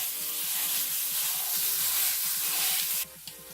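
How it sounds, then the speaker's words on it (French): Minced meat for quesadillas hits a dry pan with no fat and sizzles in a loud, steady hiss, close up over faint background music. The sizzle drops away sharply near the end. "Nous allons mettre notre viande hachée dans notre poêle ou wok ou sauteuse."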